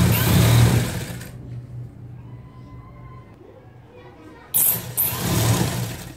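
An electric sewing machine stitches fabric panels of a long frock in two loud whirring bursts, one at the start and one near the end, with a quieter pause between; someone speaks in Hindi during the stitching.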